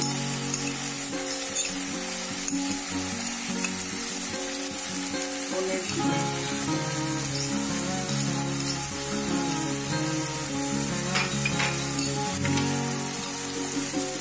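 Raw onions sizzle in hot oil as ginger paste goes in for a Bengali boal fish kalia, a steady close frying hiss running throughout with a rich low bubbling bed and occasional stirring scrapes.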